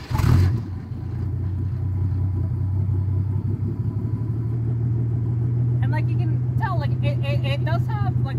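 A car with a MagnaFlow single-exhaust muffler cranks and starts, then settles into a deep, steady rumbling idle, with a voice talking over the engine later on.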